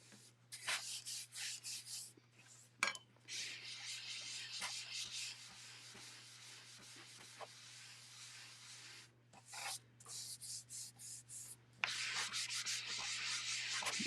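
An applicator is rubbed firmly over a painted surface, making soft, close scrubbing strokes in bursts separated by brief pauses, over a faint steady low hum.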